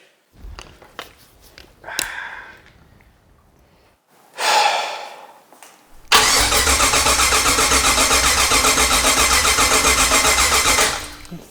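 A few soft thumps and breathy rustles, then a Ford Ranger engine with no spark cranks loudly and steadily for about five seconds with a rapid chugging rhythm but never catches.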